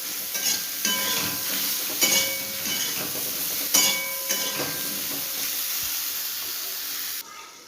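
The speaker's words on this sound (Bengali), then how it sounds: "তো চলুন পটলটা আগে ভেজে নিই। একটু ভালোভাবে লাল লাল করে ভেজে নিতে হবে।" Pieces of pointed gourd (potol) fry in hot oil for a prawn dish, a continuous close sizzle broken by several sharp stirring and spatula clatters, ending with a sudden change in tone near the end.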